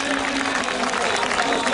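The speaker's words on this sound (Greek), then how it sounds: "Παρακαλώ, ένα ζεστό χειροκρότημα για αυτούς τους ανθρώπους." Audience applause for festival volunteers at a municipal event, a dense steady clatter of many clapping hands filling the room, loud and continuous throughout.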